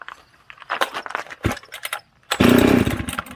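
A chainsaw assembled from a Husky 266 and a Jonsered 630 is pull-started: several close rasping pull-cord strokes, a short pause, then the engine fires and roars loudly for about a second before faltering.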